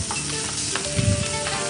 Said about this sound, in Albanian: Atëherë Iva shtojmë qepën, pasi mishi i pulës mori një skuqje të lehtë.